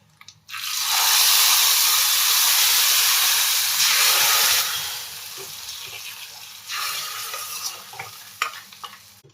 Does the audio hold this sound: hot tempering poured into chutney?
yes